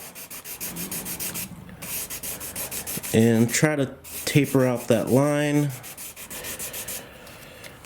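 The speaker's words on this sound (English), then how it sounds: "I just have a little piece of balsa wood as a sanding block" Rhythmic back-and-forth strokes of a balsa wood sanding block rasp steadily on a composite RC sailplane wing tip, with a person speaking briefly over the scraping in the middle.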